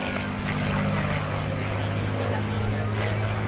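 A P-51D Mustang, a World War II propeller fighter, drones overhead at an airshow with a deep, steady engine hum, loud and sustained throughout, with a broad rushing noise layered above.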